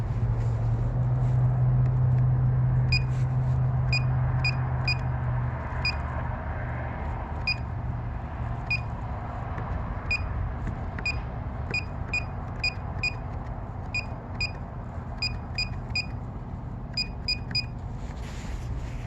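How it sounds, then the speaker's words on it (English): Short electronic beeps from the keypad of an ambulance-only coded door at an emergency room, sounding in quick clusters of presses over a steady low hum, with a brief low tone near the start. "Makes beeping sounds when you press it."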